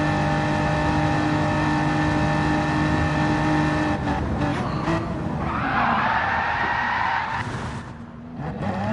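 Racing car in a racing video game overshooting its braking point at the end of a straight, engine roaring steadily before a loud tire skid and squeal cut in midway, then the engine note fading down.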